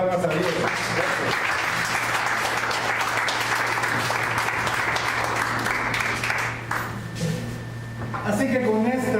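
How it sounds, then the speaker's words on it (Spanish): A church congregation applauds steadily at a moderate level for several seconds, the clapping thinning briefly near the end as a voice begins speaking over it. "Denle una ofrenda de palmas a Dios."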